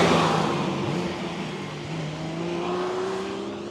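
Sports cars including a Ferrari, an Aston Martin and a Porsche RS Turbo drive along the Transfagarasan Highway, a loud engine roar swelling with rising revs as they pass close by.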